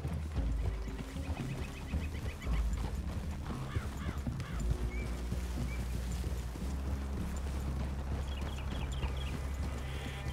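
Horses in the video game Red Dead Redemption 2, steady clip-clop of hooves with a whinny or two, mixed with ambient outdoor game sound and music.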